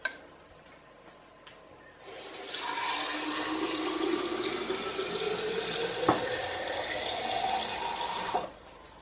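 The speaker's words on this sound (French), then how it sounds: "Je vais remplir d'eau la carafe." Water pours from a tap into a glass carafe for several seconds, a steady rushing stream whose pitch rises as the vessel fills, then stops abruptly.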